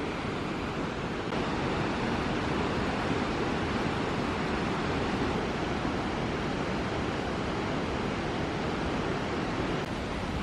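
A steady, full roar of the Los Alerces waterfall in Nahuel Huapi National Park, near Bariloche, pours on without pause, dense and continuous, with no voices over it.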